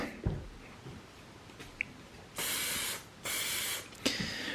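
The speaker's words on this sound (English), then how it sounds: "and then just give them a light spray" Two sustained bursts of aerosol waterproofing spray on boots hiss, each about a second long, separated by a short pause, with soft handling clicks between.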